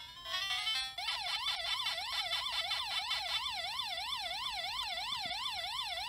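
Pac-Man game audio from a bootleg multi-game console: a brief chirpy start jingle, then a steady electronic wailing tone that sweeps up and down in a fast, siren-like loop, clear and uninterrupted with no voices.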